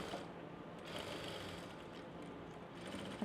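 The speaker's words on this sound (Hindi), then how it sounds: "अब सिलाई को लॉक करके मशीन को बाहर निकाल लेंगे।" A sewing machine stitches a strip onto rib-knit fabric for an umbrella palazzo, giving a faint, continuous whirring hum that stays even throughout with no voices.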